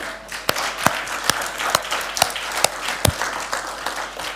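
A congregation applauds the Lord during a French-language gospel sermon, scattered clapping with several sharp, distinct claps standing out over a dense background of hands, fairly close and loud, with no talking.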